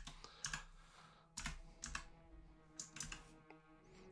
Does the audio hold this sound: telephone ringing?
no